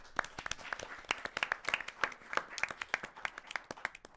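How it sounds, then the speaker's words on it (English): An audience at a debate semifinal applauds, a fairly faint, steady patter of many hand claps from a modest crowd, with no talking over it. "a round of applause for our judges and moderator."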